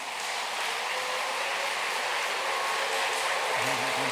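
A church congregation at a Korean retreat gathering claps to welcome a pastor to the stage, a dense, steady wash of applause filling the hall from start to finish.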